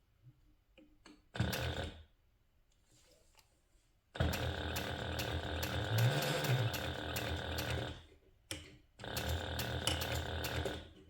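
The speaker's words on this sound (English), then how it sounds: "I end up sewing into this piece of leather like every time" A sewing machine stitches through a piece of leather while making a handbag, heard as loud mechanical rattling bursts of rapid needle action, separated by short pauses and a few clicks, close and without talk.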